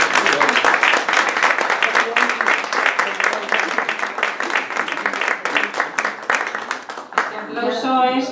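An audience at a poetry reading breaks into sustained applause, dense overlapping clapping that holds strong for about seven seconds before fading, and a voice begins speaking as the clapping dies away.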